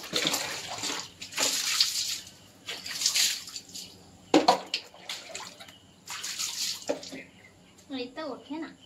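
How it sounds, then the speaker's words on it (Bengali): Water splashing and scrubbing as a tap stained red with thick iron deposits is cleaned, in bursts of running water and rubbing over several seconds, close and moderately loud. "দেখো আমাকে নিকিতা কি করতেছে, কল সাফাই করতেছে।"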